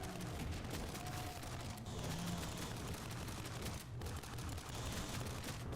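A ricochet gun in a video game fires without a break, a dense wash of rattling shots and bouncing impacts, steady and loud throughout with only brief dips.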